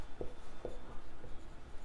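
A pen scratches out a math solution on paper in a few short, faint strokes, quiet and close by with no talk over it.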